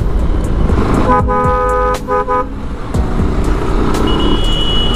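A car horn with a faulty, problematic sound honks in a few short toots, loud and close, over a steady engine rumble.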